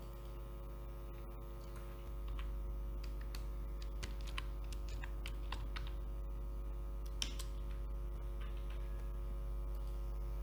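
Typing on a computer keyboard while entering slide text, a run of light irregular key clicks over a steady low electrical hum, close and fairly quiet.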